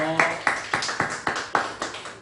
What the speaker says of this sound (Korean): 하나님 앞에 감사와 영광의 박수를 드립니다.